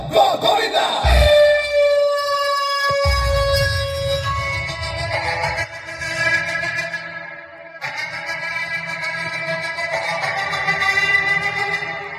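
A large crowd at a Govinda human pyramid event cheers and roars loudly and continuously, with shouting voices, whistles and sustained tonal chanting over a dense, near-constant din.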